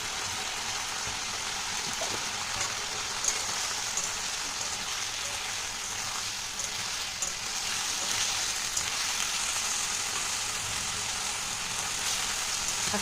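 Masala spice paste for an okra and shrimp curry fries with a splash of water in a pan, a steady close hiss and crackle that runs evenly throughout with faint background rumble and no voices.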